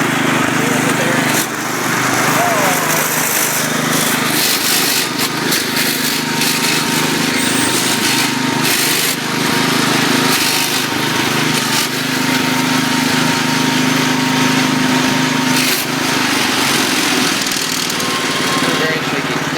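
A Cub tractor engine, warmed up after a cold start, idles with a steady, loud mechanical drone that holds unbroken for the whole stretch.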